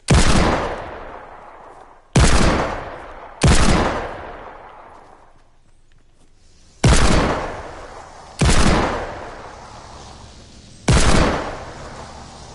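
Gunfire from shotguns and a hand cannon in the video game Fortnite: six loud, sharp blasts spaced a second or two apart, each followed by a long decaying tail, with no talking.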